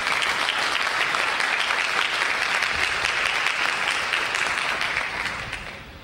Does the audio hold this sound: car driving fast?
no